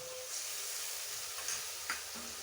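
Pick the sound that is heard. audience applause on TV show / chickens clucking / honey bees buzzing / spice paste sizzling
spice paste sizzling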